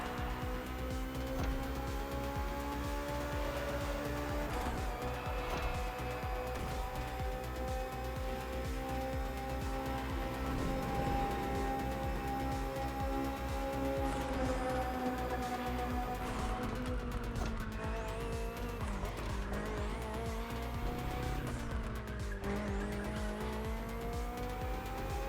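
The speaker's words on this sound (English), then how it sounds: "Finally, the BMW M Hybrid V8. What a beast." The BMW M Hybrid V8 endurance race car in The Crew Motorfest roars steadily at high revs, its engine note rising and falling through gear changes with occasional tire squeal, loud and continuous with no talk.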